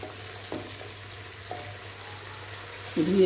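Rice and chana dal frying in a pot for khichuri give a faint, steady sizzle under a low hum, with a few soft stirring scrapes and a louder burst near the end.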